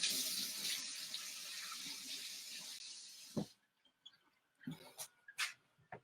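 Water runs from a kitchen tap for a few seconds as hands are wetted during bread kneading, a bright steady hiss that stops abruptly, followed by a few faint splashes and drips.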